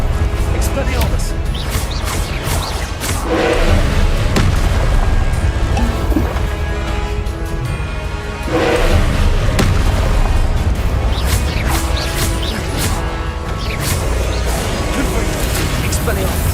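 A flurry of spells cast in Hogwarts Legacy keeps up a loud, dense battle din: repeated booming blasts, crashes and sharp impacts over a constant low rumble, with two larger surges of noise.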